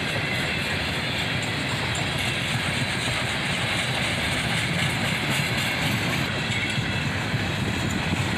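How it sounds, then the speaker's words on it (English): A CSX freight train rolls past hauling a long cut of empty slab cars, producing a steady, moderately loud rumble and rattle with faint wheel clatter and no voices. "there's a fairly large cut of empty slab cars on the back of the train here"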